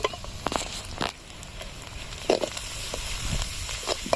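Beans and carrots tossed into a hot pan in an outdoor village kitchen, sizzling and crackling with scattered sharp pops and patter, moderately close, no talking.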